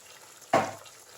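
A single sudden sizzle as raw mustard oil hits a pan of frying drumsticks and potatoes with green chillies, a sharp burst that quickly fades to a soft hiss.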